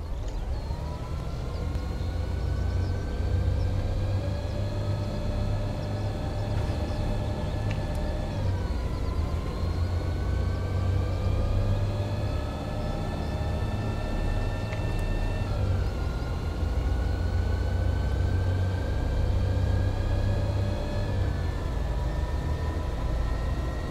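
A Solaris bus with a Voith V7 RLE gearbox drives steadily, its drivetrain whine climbing in pitch and then dropping sharply at each gear change, about three shifts over a continuous, loud engine drone heard from on board.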